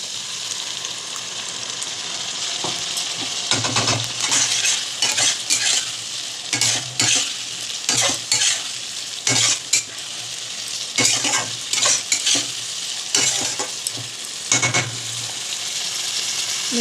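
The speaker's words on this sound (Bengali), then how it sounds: "আলুটা হালকা করে ভেজেই আমি মশলাটা অ্যাড করে দেবো।" Potatoes frying lightly in a pan, a steady sizzle with repeated scraping stirs of a utensil against the pan, close and loud, with no talk.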